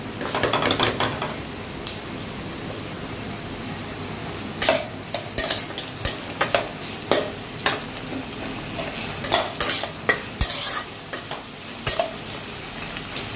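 Food sizzles in a pan while a utensil stirs it, knocking and scraping against the metal in irregular clacks that stand out above the steady frying hiss.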